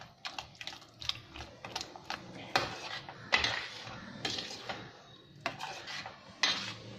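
A spoon scrapes and clinks against a pan while wheat rava and palm jaggery kesari is stirred, in close, irregular bursts of metallic tapping with no talking.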